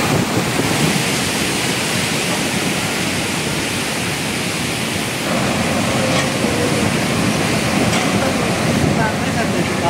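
Loud, steady roar of the flooded Zema river surging under a bridge, with wind buffeting the microphone and someone talking faintly beneath the torrent.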